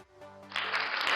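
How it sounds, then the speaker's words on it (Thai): A V8 live-stream sound card plays an applause effect, with a burst of dense hand clapping rising in over a short tonal tail and holding loud and steady. "เสียงตบมือครับ"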